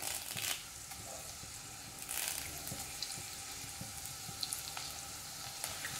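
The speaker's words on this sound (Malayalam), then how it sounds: "ചെറിയുള്ളി മുറിച്ചത് ഇതിലേക്ക് ഇട്ട് കൊടുക്കാം." Shallots and curry leaves fry in coconut oil in a kadai, a faint, steady crackling sizzle with scattered pops and a few soft stirring clatters, heard alone.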